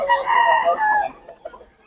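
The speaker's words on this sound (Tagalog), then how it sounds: "Gulo nitong manok." A rooster crows loudly and close in one harsh, drawn-out call that trails off, followed by a few softer clucking sounds.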